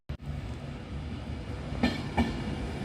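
Class 39115 train pulling out of Preston station platform 4 bound for London Euston, a steady low rumble with wheel clatter and two sharp clicks of wheels over rail joints, no voices.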